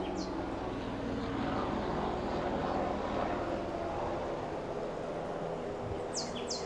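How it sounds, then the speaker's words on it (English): A small helicopter passes overhead above a beachside home's backyard in Seagrove Beach, Florida, a faint, steady engine drone with no talk and a few brief bird chirps near the end. "Little helicopter going over for us."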